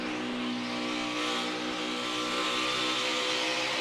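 NASCAR Cup Series race cars roaring past in a dense pack at speed, a continuous loud high-pitched engine wail with shifting tones and no break throughout.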